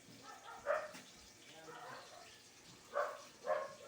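A dog barks a few times, faint and somewhat distant, with sharp short barks near the start and two more close together toward the end. Low background noise runs throughout, and no talk is heard.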